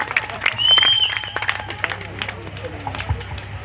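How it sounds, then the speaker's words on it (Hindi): An audience applauds at a live magic show, a short burst of mixed clapping that swells and then fades, heard alongside crowd noise and talking. "एक बार जोरदार ताली बजा दीजिएगा।"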